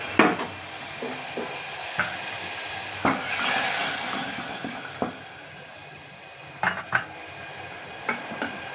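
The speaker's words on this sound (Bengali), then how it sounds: "মশলাটা যাতে না পুড়ে যায়, একটু পানি অ্যাড করে দিচ্ছি।" Water poured into a pan of sizzling spices and fried onions brings a hiss that swells and settles, followed by sharp scraping stirs and light clinks of a spoon against the pan.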